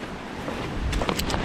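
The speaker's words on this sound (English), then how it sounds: "the wind is wicked out there. There's some serious strong gusts" Strong wind gusts sweep a treed mountainside during freezing rain, a rushing, buffeting roar that swells near the microphone and ends in short, bursting blasts of noise.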